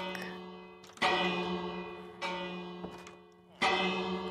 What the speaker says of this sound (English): Why are the bells sounding?